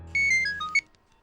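A mobile phone rings with a short electronic melody of a few bright, stepped tones, fairly loud and close, then cuts off into near silence.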